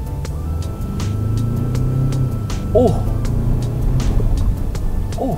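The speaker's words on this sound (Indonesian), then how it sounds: "Gue ngerasa di mode Baha ini suara knalpotnya itu berbeda." A Ford Ranger Raptor pickup's exhaust in Baja drive mode rumbles with a deep, throaty drone that rises and falls as the engine revs. A brief voice cuts in now and then.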